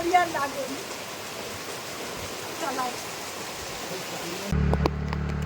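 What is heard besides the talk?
heavy rain by a canal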